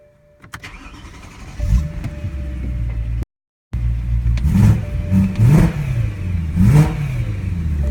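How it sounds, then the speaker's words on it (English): A car engine with its brakes just repaired starts and then revs repeatedly in several rising surges, loud and close, with a brief gap of silence in between. "I'll rev it for you guys"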